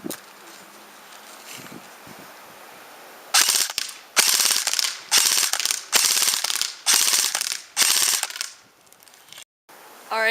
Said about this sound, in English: So let me wind the clip.